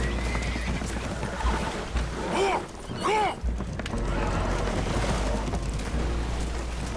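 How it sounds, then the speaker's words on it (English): Spooked horses aboard a damaged, leaking boat in the video game Red Dead Redemption 2, shrill whinnies rising over constant rushing water and low engine rumble, with hoof clatter and distant voices. "Horses are spooked"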